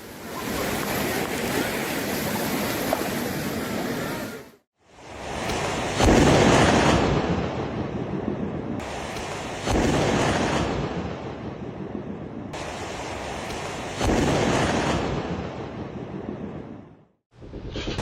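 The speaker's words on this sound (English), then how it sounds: "rising water combined with powerful waves, turning familiar streets into a completely different scene" Powerful waves and rising water surge across a coastline and flood familiar streets, heard as repeated loud, roaring broadband surges separated by brief lulls, with no voices.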